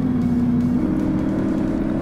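A Mercedes-AMG G63 engine in the video game DayZ hums at a steady, loud drone, holding a constant revving note close up with no speech.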